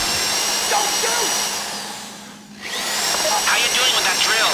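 A steady, high-pitched power drill whine in the video game GTA 5 Online runs nearly throughout, briefly dipping and fading in the middle before returning, with faint voices and clatter underneath.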